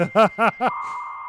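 A human voice imitates a dial-up internet modem connecting, three quick warbling beeps followed by a steady held tone, loud and close with nothing else around it.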